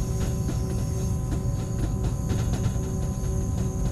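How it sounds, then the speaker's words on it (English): In Train Sim World 2 on the Tharandter Rampe between Dresden and Chemnitz, train wheels click and clack over track points, sharp, regularly spaced knocks riding over a constant low rolling rumble. "just a clickety clack as we go across the points there"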